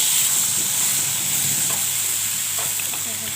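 Boiled mango going into a hot pan of oil with five-spice and dried red chilli, a steady close sizzle and hiss running throughout with a few faint clinks, no talking.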